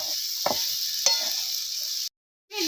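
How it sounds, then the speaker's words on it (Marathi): Chopped okra in a hot pan gives a steady sizzle with two distinct stirring scrapes, then cuts to a brief silence before the sizzle returns. "आता ही भेंडी चिरलेली ह्याच्यामध्ये आपल्याला टाकायची आता ह्याला चांगला एकजीव करून आपल्याला ही हलवून घ्यायची"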